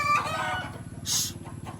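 A brief rooster crow rings out over a low, rhythmic engine rumble, ending after a couple of seconds.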